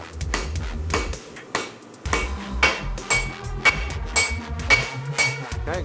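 Hammer forging a Viking Dane axe blade, a series of sharp metallic strikes in an uneven rhythm, close and ringing, with a brief pause partway through.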